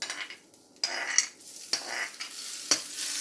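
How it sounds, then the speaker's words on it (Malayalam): Mustard seeds tempered in hot oil with chopped dried red chillies and curry leaves, with bursts of sizzling and crackling broken by stirring and the clink of a metal spoon against the pan, close and fairly loud. "കടുക് താളിച്ച് ഈ കറിയിലേക്ക് ഒഴിച്ചു കൊടുക്കാം"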